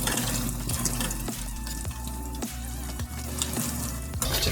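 Dhakka fish pieces frying in oil in a pan, a loud continuous sizzle with crackling close up, interrupted by brief clatters of a utensil.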